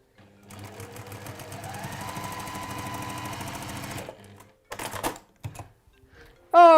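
A domestic sewing machine stitches fabric seams in a steady, fast mechanical whirr for about four seconds, then stops and gives a few shorter bursts, close and fairly loud, with a brief higher tone near the end.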